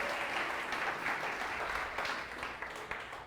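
A church audience claps enthusiastically during a worship service, a full, continuous burst of applause that tapers slightly toward the end.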